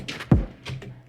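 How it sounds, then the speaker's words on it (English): A fist pounding on a floor, picked up by a mic lying on the floor: one deep, heavy thump, close and boomy, with lighter knocks around it. "I put the mic on the floor and I was just hammering the floor with my fist"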